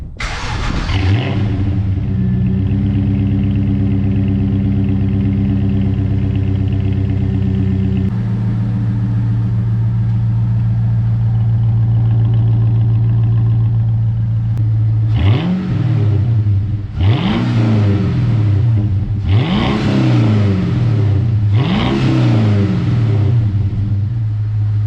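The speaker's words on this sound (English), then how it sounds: "let's give it a start up and a rev for you guys" A manual Holden SS Commodore in sting red cranks and starts, settles into a deep steady idle that drops in pitch, then is revved four times in quick, loud climbing bursts close by.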